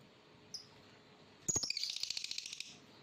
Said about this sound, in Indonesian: bersama si burung kuning yang cantik ini